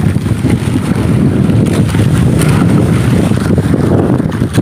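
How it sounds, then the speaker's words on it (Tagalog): Strong wind at sea on a small fishing boat near an island, buffeting the microphone with loud, rough, rumbling gusts throughout and no talking. "Malakas kasi yung hangin eh."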